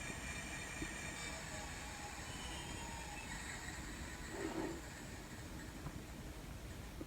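A model railroad locomotive runs with a steady, low mechanical rumble and hum that holds throughout at a quiet level, with a brief squeal near the end and no voices.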